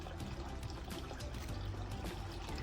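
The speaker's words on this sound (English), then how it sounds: "Got this water feature that I got from Amazon. It's not very big, but it provides really nice sound." A small garden water feature fountain bought online trickles and pours steadily, a continuous close splashing flow with no voices over it.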